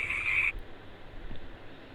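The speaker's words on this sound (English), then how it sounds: "This is the sound of frogs croaking." Frogs croak in a pond in the rainy season, a rapid, buzzing trill for about half a second, then fade into a low, murmuring outdoor background.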